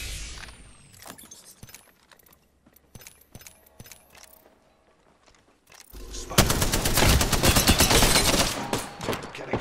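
Gunfire in the video game Apex Legends: scattered single shots and clicks at first, then a sustained loud burst of rapid automatic fire near the end.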